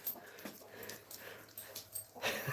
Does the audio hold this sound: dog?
yes